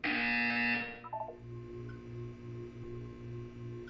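A buzzer sounds in a Portal 2 test chamber: a loud, bright electronic tone for about a second, then fading into a low pulsing hum that repeats in steady beats.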